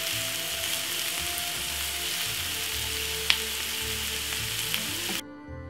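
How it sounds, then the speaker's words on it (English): Seasoning for Jamaican escovitch fried fish sautéing in a pan: a constant, moderate frying hiss with occasional sharp clicks of a utensil, ending in a sudden drop to near silence. "So we're gonna saute this off for about 4 to 5 minutes."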